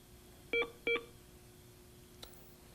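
Two short electronic beeps from pressing buttons on a 1990 Canon Navigator HD40 phone, clear and close with a brief pause between them, followed by a faint click.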